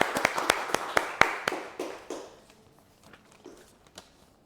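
A classroom of students claps in a burst of sharp, close, separate claps that thin out and fade over a few seconds into scattered faint taps.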